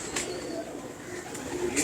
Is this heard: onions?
no